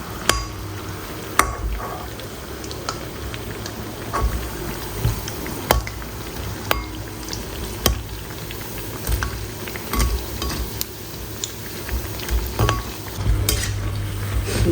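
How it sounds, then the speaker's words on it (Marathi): Mixed dal vadas deep-fry on a low flame with a steady crackling sizzle in hot oil. Irregular clicks and scrapes of stirring and utensils sound close by throughout. "मस्त स्लो गॅसवर क्रिस्पी फ्राय करून घ्यायची आपल्याला"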